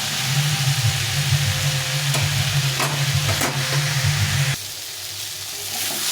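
Vegetables with fish head frying in a pan for a spiceless chorchori, a loud sizzle with stirring scrapes and clatters, then dropping to a quieter hiss near the end.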